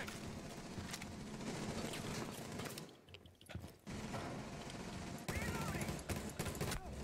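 Rapid bursts of gunfire from the video game Rainbow Six Siege fill most of the stretch, loud and dense, dropping out briefly in the middle before resuming with mechanical clatter.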